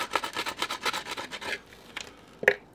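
A screwdriver is scraped along the edge of skateboard grip tape to file it off, giving a quick series of rough rasping strokes followed by a pause and a sharp final scrape, close up with no voices.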